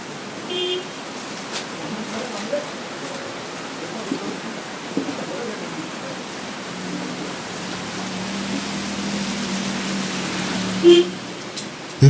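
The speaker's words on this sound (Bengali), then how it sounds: "খেতে খেতেই বেশ বৃষ্টি নামল।" Soft, steady rain hissing in the background for a long stretch in a Lepcha village in the hills of North Bengal, with faint distant rumbles and occasional small knocks.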